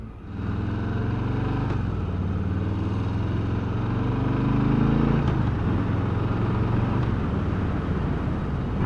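A 2020 Harley-Davidson Softail Street Bob with mini ape handlebars drones on steadily under way, its engine note swelling slightly mid-ride as it gathers speed amid constant wind rush.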